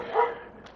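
A single short dog bark sounds at moderate distance during a neighborhood walk in Regina, brief and alone against quiet outdoor background.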